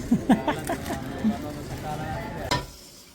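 Home dinner cooking in a pan, with soft sizzling and scraping stir strokes, a few utensil clinks and knocks, and people talking over it.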